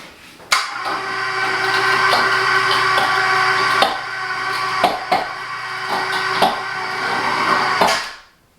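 A homemade electric cable elevator runs with a steady, loud motor whine and hum for several seconds, broken by scattered knocks and clunks, then winds down and stops.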